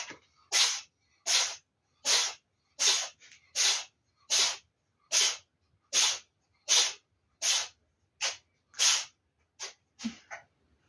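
A small dog sneezing or snorting repeatedly, a run of about fourteen short, sharp, hissy bursts in a regular rhythm, close and loud with silence between them.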